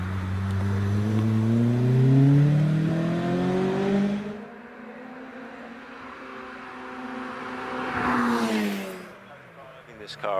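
A racing car with an 1800 Rover engine revs hard and climbs in pitch, then cuts away and surges again more distantly as it accelerates uphill at the Prescott hillclimb.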